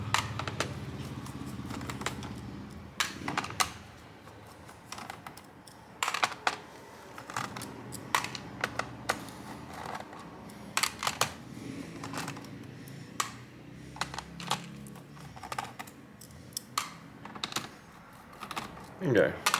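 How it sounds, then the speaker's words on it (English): Small screws are taken out of the base of an Acer TravelMate P214 laptop, giving faint scattered clicks and light metallic taps at an irregular pace, with a quiet voice speaking at times between them. "Take out all these screws. They've all got washers on them."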